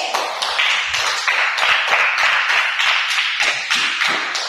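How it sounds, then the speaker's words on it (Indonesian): A classroom of students claps for a group after its presentation, a close, fairly loud burst of rhythmic hand claps in a rapid, slightly uneven beat lasting several seconds. "tepuk tangan untuk kelompok B"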